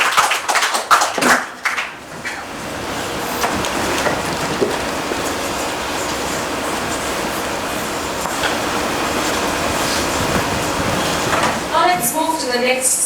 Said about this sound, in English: Let's have a big round of applause for this wonderful special talk.